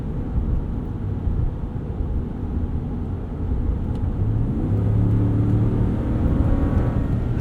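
Low, steady drone of a 2019 RAM 1500 Rebel V8 driving in tow haul mode, engine note rising gradually as it pulls, with a humming drivetrain tone building in the second half under constant road rumble.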